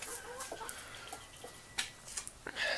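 Chickens cluck in short, scattered bursts against a quiet outdoor background, with a few sharper squawks near the end.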